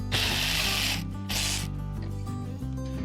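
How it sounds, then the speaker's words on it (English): 8mm socket ratchet loosening cylinder head cover bolts on a Benelli TnT 135 motorcycle, two quick bursts of rapid clicking up close followed by softer metallic fiddling. "We're going to use an 8mm socket to remove these 4 bolts that hold on the cylinder cover head."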